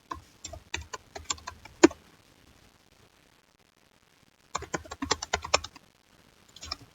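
Rapid typing on a computer keyboard while coding comes in two bursts of close, crisp key clicks with a pause between them and a few stray taps at the end.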